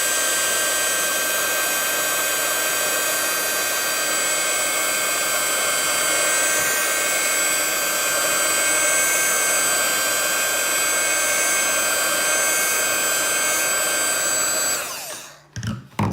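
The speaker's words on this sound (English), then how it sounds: "What I'm going to do is dry it with my heating tool to make sure it's really good and dry." A heat tool blows hot air to dry ink on hand lettering, making a loud, continuous, close whooshing drone that runs steadily for about fifteen seconds before it cuts off.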